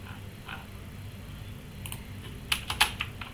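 Fingers tap HTML code on a computer keyboard at close range: a quiet stretch, then a short burst of several crisp keystrokes near the end, with no talking.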